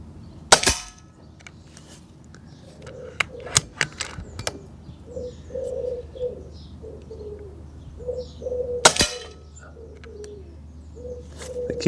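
An Air Arms S510S carbine .22 air rifle fires pellets outdoors in a few sharp, isolated cracks spaced seconds apart, with doves cooing softly in the background.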